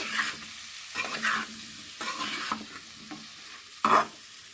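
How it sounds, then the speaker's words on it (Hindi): A radish dish is stirred and mixed in a pan. Several distinct scraping strokes come at an uneven rhythm over a soft sizzle, with a sharper clatter near the end and no voices. "और अच्छे से मिक्स कर दीजिए।"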